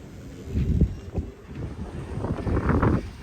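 Gusty wind buffets the microphone at a marina dock among moored boats, rumbling in uneven surges that swell and ease over a few seconds.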